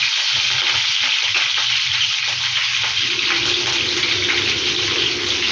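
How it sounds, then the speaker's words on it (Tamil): Curry leaves and green chillies crackle and sizzle in hot oil, a steady, close frying hiss that runs unbroken throughout with no voices. "கருவேப்பிலை பொரிஞ்ச உடனே பச்சை மிளகாய் சேர்த்துக்கிறோம்."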